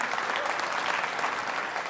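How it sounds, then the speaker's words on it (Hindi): Audience applause at a televised Hindi debate show, a dense steady clatter of many hands clapping at even loudness throughout, with no speech over it. "तो एक बार ताली उनके लिए भी बजा दीजिए"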